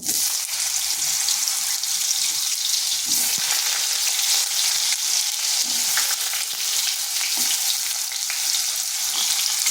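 Potatoes fry in hot oil with a bay leaf and dried chilli, a loud, dense hiss and crackle that runs unbroken throughout, with occasional soft knocks of stirring and no voices.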